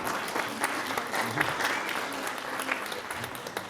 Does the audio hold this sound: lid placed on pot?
no